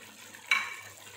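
A single brief stir of rice with carrots and dry fruits in a cooking pot for an Arabic mutton mandi, a short quiet scrape of spoon against pot and grains, with no voices.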